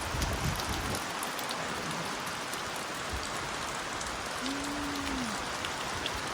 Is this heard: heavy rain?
yes